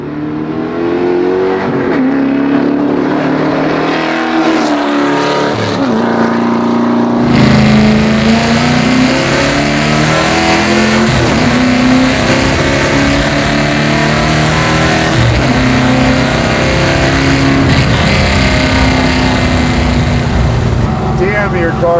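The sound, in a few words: garage-built '72 Duster NASCAR-style car with LS engine revving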